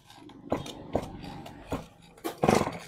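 A small T2 chainsaw engine is pull-started, giving four or five rough sputtering bursts at irregular intervals, each a short coughing crank that builds toward a louder final attempt, with no talk over it.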